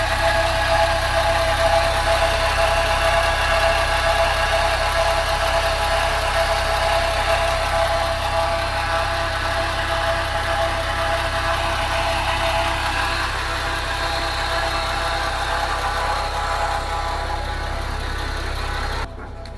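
A boat or vehicle engine in Bato, Leyte idles steadily while cooling down, a continuous close low rumble with a faint knock and no talk, stopping abruptly at the very end.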